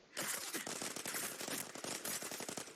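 Rapid automatic gunfire from the video game Arena Breakout rattles in a dense, fast burst of shots that runs almost without a break for nearly three seconds, fairly quiet in the mix and without talking.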